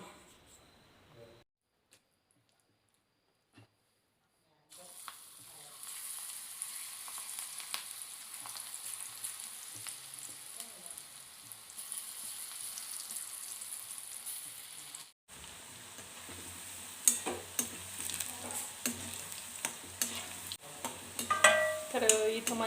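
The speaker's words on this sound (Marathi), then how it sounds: "तेल गरम आहे ना तर ह्याच तेलामध्ये मी आता भजे करते" Bhaji batter frying in hot oil in a home kitchen, a steady close sizzle starting after a quiet opening, with a brief break midway and occasional utensil clinks and stirring near the end.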